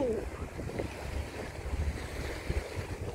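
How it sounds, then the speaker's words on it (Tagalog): Strong waves churn near a bridge, a steady low rumble of rough water with wind buffeting the microphone throughout. "Ayan, malakas na yung alon."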